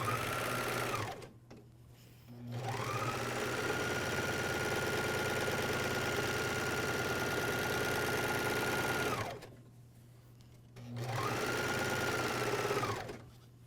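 A MyLock 454D serger sews pajama bottom seams in long, steady runs, close and clear, with two short pauses between the stitching bursts.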